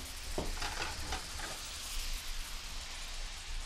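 Garlic, basil and thyme sizzle in a hot pan as a dense, steady hiss. A few soft stirring scrapes come near the start, with no talking.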